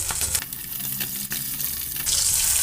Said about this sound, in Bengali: তো মাছগুলো এবার আমি ভালোভাবে ভাজা হতে দেব